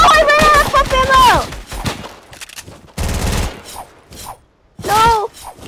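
Pump shotgun blasts in a video game, a few loud sharp bursts separated by gaps, mixed with shouting voices and harsh distorted noise.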